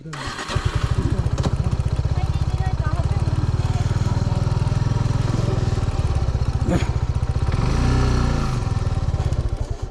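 A motorcycle engine runs loud and close in an even, throbbing rhythm, its pitch dipping and rising again near the end, with voices faintly mixed in.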